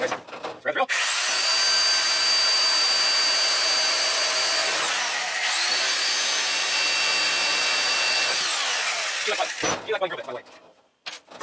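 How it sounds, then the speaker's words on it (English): A power drill whines steadily at high pitch for most of the clip, loud and close, during work on a lawn mower trailer frame, before spinning down and stopping near the end. "Grab the drill."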